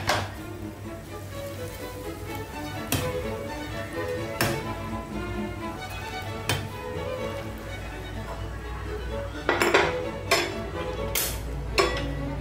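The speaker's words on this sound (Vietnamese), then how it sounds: "chúng ta sẽ nêm nếm lại và chúng ta sẽ múc ra tô nha" Chive and soft tofu soup is ladled from a pot into a bowl, with soft scraping, liquid pouring and sharp clinks of the ladle against metal and ceramic over a low steady background hum.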